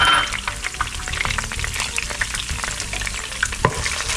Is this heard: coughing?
no